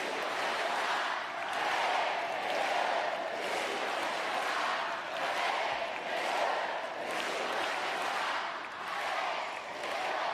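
French crowd in a stadium at a Paralympic wheelchair tennis men's doubles semi-final between Great Britain and France, a large mass of voices chanting and cheering in rhythmic swells, loud and steady throughout.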